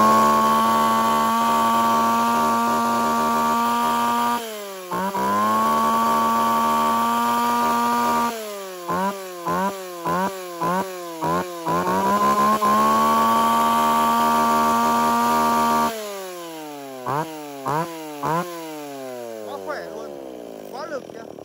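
A used Japanese chainsaw engine starts and runs loud and close, holding a steady idle, then revving in repeated sharp bursts with falling pitch between each, before a final series of quick throttle blips.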